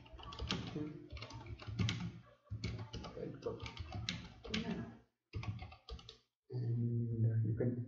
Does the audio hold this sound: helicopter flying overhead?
no